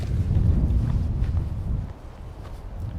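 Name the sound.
wind blowing on a mountain hike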